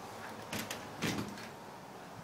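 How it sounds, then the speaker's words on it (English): A house's front door, behind a screened-in entry, opens with a couple of quiet, brief knocks and rustles against a faint background. No voices. "Walk in the front door."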